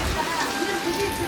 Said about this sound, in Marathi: मित्रांनो चांगलाच पाऊस आलाय